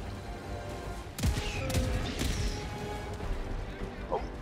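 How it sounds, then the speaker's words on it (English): Artillery strikes landing in the Helldivers 2 video game, several heavy booming impacts in quick succession over a dense battle din, with people talking over the action. "Artillery."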